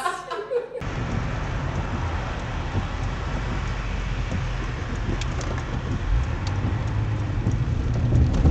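Rain patters steadily on a car roof, heard from inside as a dense, even hiss that swells slightly toward the end, with a brief voice at the start.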